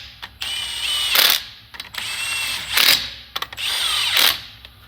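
An impact wrench drives bolts during a manual hub install on a 1992–2000 Mitsubishi Montero/Pajero, three loud close bursts of whirring and hammering, each followed by a short pause.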